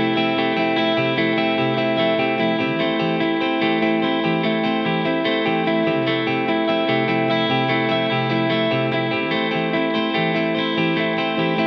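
A music sample running at 147 BPM plays back in Logic Pro, a dense, continuous track with sustained tones and a steady pulse, heavily effected with distortion and chorus-like processing, loud and even throughout with no talking.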